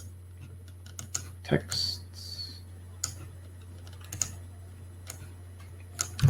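Keyboard typing at a computer, a few sparse, light clicks and taps scattered across a quiet room with a low steady hum, a brief spoken word in between.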